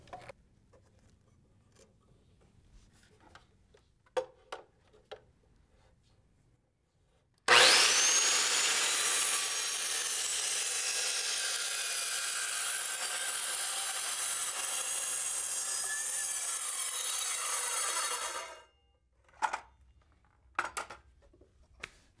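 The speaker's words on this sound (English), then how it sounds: "Line up the saw blade." A saw rips through wood for a mid-century modern TV stand in one loud, steady rasping cut lasting about eleven seconds, with quiet scattered knocks and handling noise before and after it.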